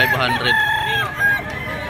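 A Kelso yellow-legged stag crows close by, one drawn-out call rising and wavering over a steady murmur of market background noise.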